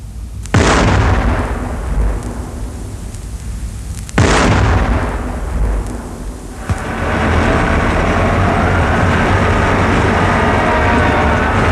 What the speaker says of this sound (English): the papa of them all, the M110, affectionately referred to as the 8-incher, a real big bang